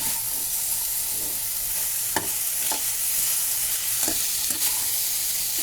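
Vegetables and paneer fry in a pan for dal with a constant sizzle, while a spoon scrapes and taps the pan a few times in sharp, separate strokes.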